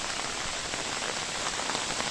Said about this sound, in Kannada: ಅಷ್ಟರಲ್ಲೇ ಮಳೆ ಬಂದ್ಬಿಡ್ತು.